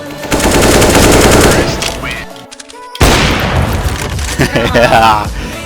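Rapid gunfire in the game CS:GO, dense loud bursts through the first two seconds, a short break, then more shots resuming after three seconds, with voices talking over and between the bursts.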